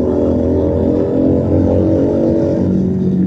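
A Keeway SCR 250 motorcycle fitted with a Rez Speed exhaust runs loud and close, its engine note a constant rumbling drone with slight surges, heard alone without any speech.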